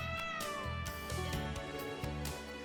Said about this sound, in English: That cat. It's the same one that was on the special support section's roof.